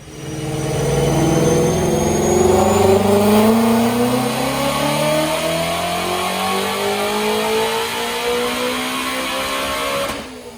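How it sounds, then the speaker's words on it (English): A 2018 Ford Mustang GT350 with a Whipple supercharger and ARH exhaust roars through a dyno pull, its engine note climbing steadily in pitch for about ten seconds, loud and close, then cutting off abruptly. "And check out this Dyno pull."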